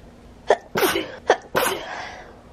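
A person sneezes several times in quick succession, sharp bursts with short breaths between, close and loud against a quiet background.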